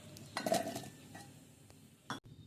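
A few clinks and clatters of chopped onions dropping into a mixer jar, a brief cluster early on and a sharper knock near the end.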